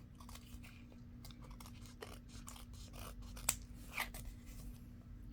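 Scissors trimming decorative paper for an envelope project, with quiet snips and crisp cuts at an uneven pace and one slightly sharper snip partway through, close by in a quiet room.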